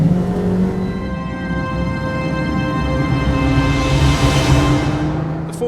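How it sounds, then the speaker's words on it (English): A Ferrari 458 Challenge race car lapping the Fiorano track, its engine holding a loud, steady high-pitched howl throughout, rising near the end with a brief whine as it passes close by. "enjoy a lap around Fiorano in this amazing challenge race car"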